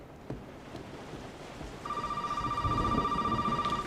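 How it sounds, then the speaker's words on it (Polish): Telephone ringing inside the Resident Evil 7 house, a steady electronic trill that starts partway through and repeats in a rapid pulsing pattern over quiet ambient background. "O, i teraz telefon dzwoni, który możemy sobie odebrać."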